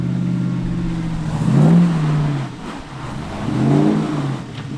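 A 4WD's engine revs in surges as it crawls through a deep rut, a steady low drone swelling twice to louder strained peaks, with no talk.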